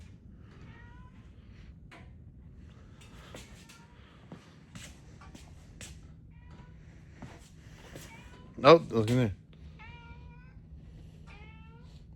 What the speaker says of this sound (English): Is there a cat in here?